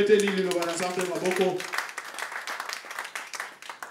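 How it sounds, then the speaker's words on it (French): A church congregation at a thanksgiving service in Kinshasa breaks into applause, a dense wash of many hands clapping that starts under a voice speaking and then carries on alone before fading slightly. "Acclamons pour la parole."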